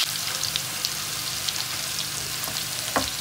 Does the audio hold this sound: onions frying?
yes